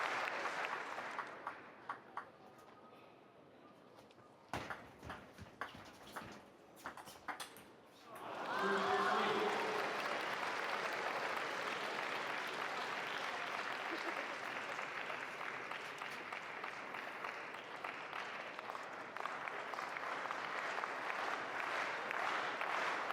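Crowd at a men's singles table tennis semifinal in Game 7 at the 2017 German Open, sparse ball ticks and scattered claps swelling into sustained loud applause that carries on to the end, with a voice speaking early.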